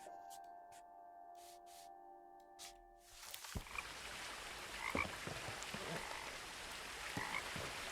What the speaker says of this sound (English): I hear my frogs.